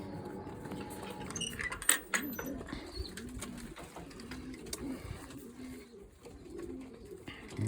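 Soft, low cooing of pigeons repeating through the clip, with faint clicks and rustling nearby.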